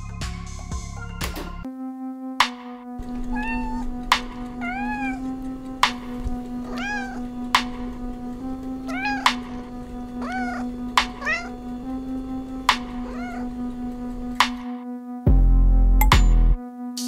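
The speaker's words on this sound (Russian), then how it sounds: "Я слышала какое-то мяуканье, похожее на кошачье." A cat meows repeatedly at night indoors, a series of distinct rising and falling calls spaced every second or two over a steady background hum, with a brief clinking sound near the end.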